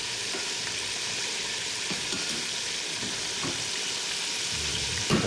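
Carrots cooked like sweet potatoes caramelize in a hot pan with a steady, dense sizzle, constant and close, broken only by a few faint stirring clicks.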